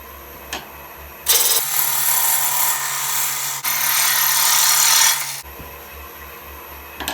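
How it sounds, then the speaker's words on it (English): Wood lathe with a gouge cutting a small tenon on a walnut bowl, a steady motor hum broken by a loud, close scraping cut lasting about four seconds before it quiets again. "we're going to create a very small tenon down here"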